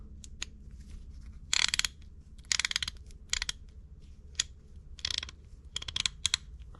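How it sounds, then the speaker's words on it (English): A rebuilt, freshly greased Craftsman ratchet clicks through its gears in short bursts of fast, close metallic ticks, with quiet gaps between the bursts. "clicking on the gears,"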